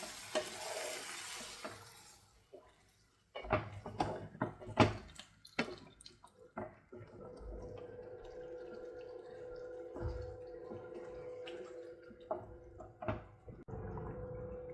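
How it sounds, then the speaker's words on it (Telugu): A spoon scrapes and stirs through a pan of drumstick masala gravy in uneven bursts of knocks and scraping, with a soft steady simmer underneath and pauses between strokes. "దీని అంతని మొత్తం కలిపేసుకుందాం."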